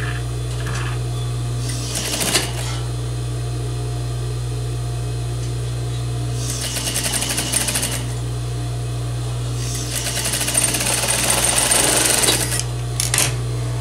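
A sewing machine runs in short bursts while stitching a French seam, with three separate spells of stitching over a steady low motor hum, close and moderately loud with no talking.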